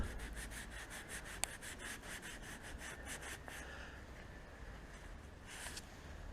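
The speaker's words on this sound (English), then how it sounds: "So we're just going to apply a little bit on there, rub." Meguiar's polishing compound is rubbed by hand onto a boat hull, making a faint, steady rhythmic scrubbing that keeps going without pause and carries no speech.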